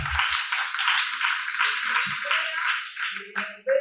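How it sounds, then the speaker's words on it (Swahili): A church congregation applauds Jesus during a testimony service, a broad wash of many hands clapping together that fills the room for a few seconds, then thins out and fades. "Pigie Bwana Yesu makofi."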